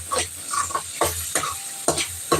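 A spatula presses and mashes tomatoes in a hot frying pan for a squid stir-fry, with a few sharp, close pushes and scrapes over a light sizzle.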